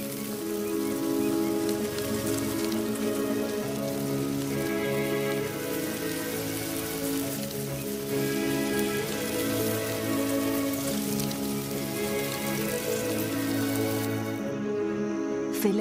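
Rain falls steadily on open African ground, a dense, even hiss of drops pattering continuously at moderate loudness without any voices.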